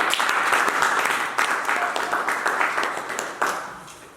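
A church congregation breaks into sustained applause acclaiming Jesus, a dense wash of many hands clapping that surges in waves and slowly tapers off, with voices mixed into the crowd noise.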